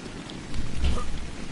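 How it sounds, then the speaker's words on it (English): Steady rain falling in ARK Survival Evolved, a soft continuous patter with a brief low rumble swelling in the middle, no voices. "And I'm out in the rain again"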